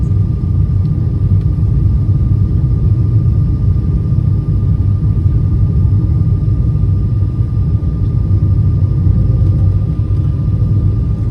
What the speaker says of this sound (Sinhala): ලන්ඩන් වලට ලෑන්ඩ් කරන්න තමයි යන්නේ.